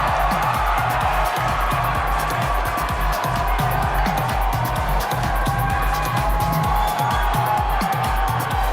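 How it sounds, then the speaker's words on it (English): A large pageant audience at the 2014 Miss Universe preliminary competition in Doral, Miami, keeps up a dense, continuous roar of cheering and applause, loud and unbroken throughout. "Yes, another round of applause."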